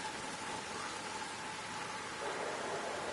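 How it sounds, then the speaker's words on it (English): Rain in a Tour de France cycling game, a steady hiss of falling rain that holds evenly throughout and thickens slightly near the end, with no voices. "It has started to rain."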